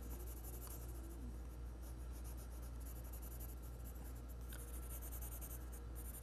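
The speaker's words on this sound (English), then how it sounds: "it's nice with the graphite pencil, we can give it a lot of little textures suggesting the fur on him" A graphite pencil makes a steady, close scratching on paper as small strokes build up fur texture on a puppy drawing, with a continuous low hum underneath and no talk.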